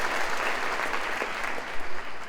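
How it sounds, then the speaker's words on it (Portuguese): A church congregation applauds steadily throughout, a dense, sustained wash of clapping with no gaps and a slight swell near the end. "Dá um aplauso a Jesus."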